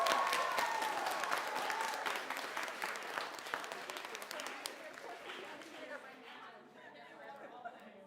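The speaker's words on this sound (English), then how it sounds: "Big round of applause to Robin and all the folks here at Stone Chu" Audience at the Stone Church music venue in Brattleboro, Vermont gives a big round of applause with cheers and chatter, loud at first and then gradually dying away.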